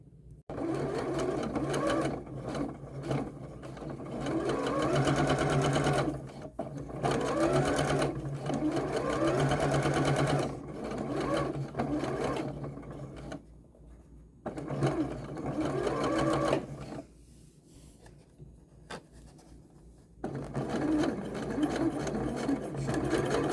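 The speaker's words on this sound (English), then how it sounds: "Now I'm going to start sewing again." A sewing machine stitching fabric for a McCall's 7125 overlay, a loud close whirring hum that runs in long bursts, pausing briefly between runs.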